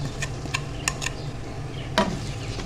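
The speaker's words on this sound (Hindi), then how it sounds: "अदरक लहसुन हमारा भुनना शुरू हो गया" Ginger garlic paste frying in oil for onion-free daal mash, a low steady sizzle with a few light clicks and a spoon scraping the pan.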